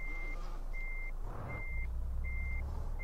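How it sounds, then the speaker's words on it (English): Repeating reversing beeps from a lorry being parked in Euro Truck Simulator, steady evenly spaced tones over a low diesel engine rumble, loud and close. "Parking lorries is pretty damn tricky."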